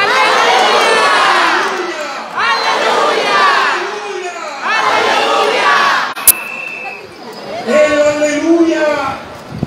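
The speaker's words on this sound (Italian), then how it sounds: "inviterei tutti in questo momento a gridare con me" Crowd at an Easter 'Lu Ncontru' celebration in Ribera shouts alleluia together in loud, repeated surging cheers, about four bursts with brief dips between, close and energetic with a sharp click near the end.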